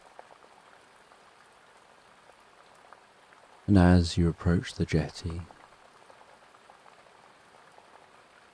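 Steady rain falls on wooden boards and trees by a forest lake jetty, a soft continuous hiss throughout, briefly overlaid by a voice speaking.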